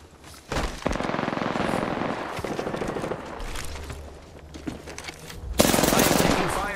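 Rapid automatic gunfire in a shooter video game, sustained loud bursts of shots, a short lull, then another intense close volley.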